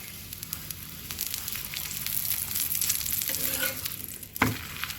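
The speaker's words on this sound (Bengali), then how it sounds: "আমি সাদা তেল দিয়ে দেবো তোমরা চাইলে এটাকে সর্ষে তেলেও ভাজতে পারো" Cauliflower paratha frying in white oil, a steady close sizzle and crackle running throughout with a brief louder spatter near the end.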